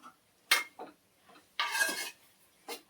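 Spices and onion paste being stirred into chicken in a pot for spicy chicken biryani: a few brief scraping, clinking spoon-on-pot strokes, with one longer stir in the middle, close and fairly quiet.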